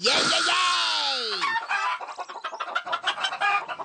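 Cartoon chickens cluck loudly, starting with a drawn-out squawking crow and then breaking into a rapid flurry of close, excited clucks.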